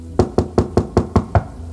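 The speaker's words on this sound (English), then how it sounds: "A sudden knock startled Violet, snapping her out of her thoughts." Seven sharp knocks on a stall door, quick and evenly spaced, close and loud with no other sound.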